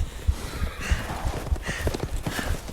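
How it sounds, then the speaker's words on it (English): Horses' hooves clip-clopping in the Resident Evil Village video game, a series of close, dull thudding hoof strikes in an irregular walking rhythm over soft background noise. "Nice horses you got that we're never gonna see again."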